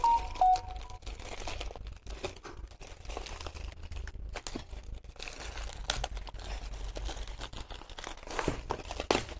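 Polythene packaging crinkling and rustling continuously while a thermocol box is unwrapped, close and steady throughout with sharper crackles and tearing bursts.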